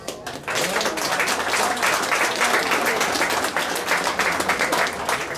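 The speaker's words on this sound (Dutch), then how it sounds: "Dus graag een heel dik applaus voor die vrijwilligers" Thick, steady applause from an audience at a grape theme park open house, honoring the volunteers who pick the grapes; dense clapping starts after a brief quiet moment and holds loud and even throughout.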